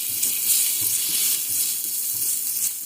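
Crushed garlic sizzles steadily in a spoonful of very hot olive oil in a home kitchen, a constant bright frying hiss with faint clinks of stirring underneath, no voices.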